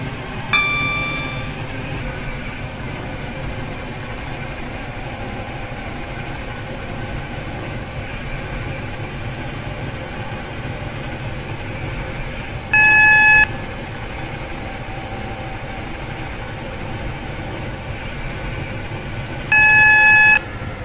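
An Airlink train in the Roblox game SCR rolls steadily toward Airport Terminal 3, its constant low rumble and hum broken twice by short electronic beeps, with no speech.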